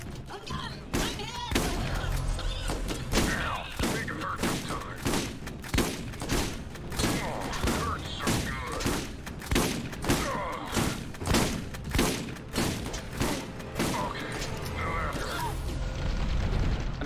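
Rapid enemy gunfire fills a Borderlands firefight, a steady barrage of close, loud shots and thuds with someone talking over the action.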